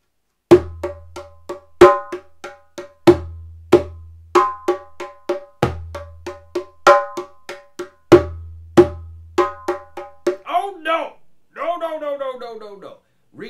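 Djembe hand drum struck in a repeated bass-bass pattern: sharp slaps and deep booming bass strokes in a steady rhythmic phrase, close and loud, followed near the end by a voice vocalizing the beat.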